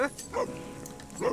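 A dog barks in The Sims video game, three short barks spaced across about a second at moderate loudness, with no talk over them.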